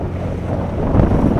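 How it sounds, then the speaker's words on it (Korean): Strong wind buffets a boat out at sea off Seongsan in Jeju, a constant low rumbling gust with wash of waves, swelling slightly louder toward the end, no voices. "배를 타고 바다로 나오니 생각보다 바람이 더 세게 느껴진다"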